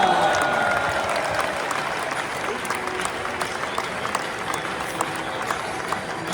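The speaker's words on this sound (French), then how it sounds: "nous aurons le plaisir d'applaudir Rémi Gaillard" A stadium crowd applauds a football legend at the FC Lorient centenary match, steady broad clapping and crowd noise with a brief voice over it near the start.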